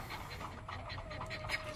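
A dog pants rapidly and steadily up close, quick rhythmic breaths continuing throughout without pause or voices.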